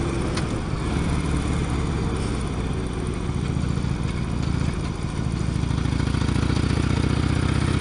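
A 2005 Harley-Davidson Sportster 1200C engine runs steadily nearby, a loud, continuous low rumble with a slight rise in intensity toward the end and no speech over it.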